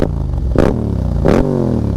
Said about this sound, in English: listen to this bike with the full Akrapovic exhaust